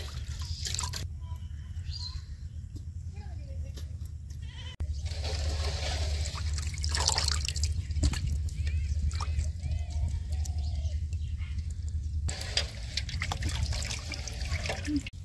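Water splashes and drips as shrimp are picked by hand from a pond, with sloshing bursts and trickles close by, alone without talk.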